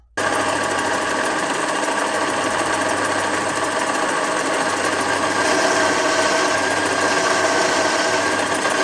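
A small TV-4 lathe turning metal runs steadily with a continuous mechanical whir and buzz, close by and loud, with a faint metallic grinding edge throughout.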